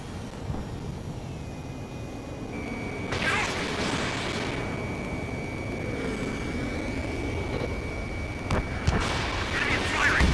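Enemy gunfire during a jet dogfight in the video game Ace Combat 7, heard as a couple of sharp crackling bursts over a steady aircraft engine drone and a thin sustained warning tone.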